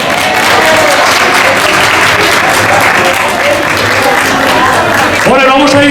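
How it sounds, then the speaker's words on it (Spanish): Loud, sustained applause from a gala awards audience, honoring a flamenco-style singer and the guitarist accompanying her, a dense unbroken wash of clapping that swells slightly near the end. "Un fuerte aplauso para ellos."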